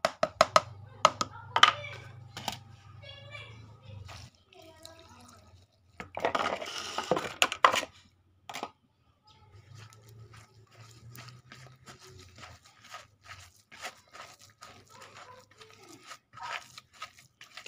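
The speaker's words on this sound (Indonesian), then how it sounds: "Kita aduk teman-teman sampai merata." A corn bran and rice chicken feed pudding being stirred: wet, crunchy scraping and squelching in irregular bursts, close and fairly quiet, with brief pauses between strokes.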